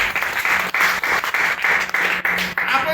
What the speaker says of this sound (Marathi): त्यांच्यासाठी टाळ्या होत्यात.